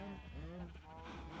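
Sheep in the Minecraft video game bleat in a few wavering, nasal cries that overlap over about a second and a half, faint and mixed into a busy, steady game background.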